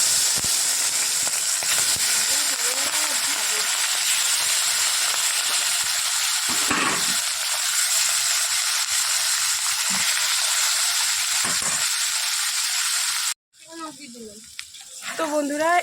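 Cumin seeds and dried chilies temper in hot oil with a continuous bright sizzle and hiss that lasts most of the time, close by, before a sudden cut and a voice at the end.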